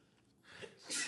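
One fairly quiet sneeze from a person during a podcast conversation, a brief breathy intake followed by a sharp hissy burst lasting well under a second.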